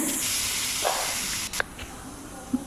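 Tamarind water poured into a hot pan for puliyotharai sizzles with a broad hiss, followed by a few soft clinks and bubbling sounds.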